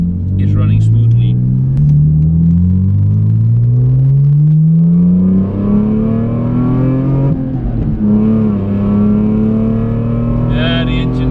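A car engine on a quiet test drive after fitting new Bosch spark plugs, revving up through gears in rising sweeps that fall and climb again, heard from inside close up with a person talking.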